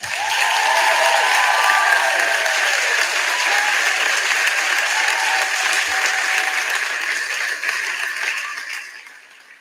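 Loud, sustained crowd applause with some cheering, a thick wash of clapping that holds for several seconds before dropping away at the end.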